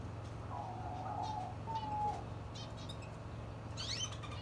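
Birds chirp and coo from nearby trees in a nature reserve, with a few short whistled calls and a brief flutter, all over a steady low hum of background noise.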